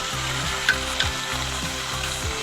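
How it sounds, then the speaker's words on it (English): Saltfish frying in a pan gives a steady, close sizzle, with a few soft clicks and stirring sounds and a low repeating hum underneath, and no voices. "Alright, we'll fry up this saltfish now."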